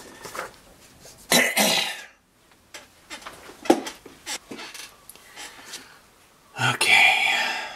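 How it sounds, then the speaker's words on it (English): Several harsh coughs and throat-clearing bursts while sculpting, close to the microphone, spaced irregularly with quiet gaps and faint clinking between them. "if you hear me coughing while I'm working"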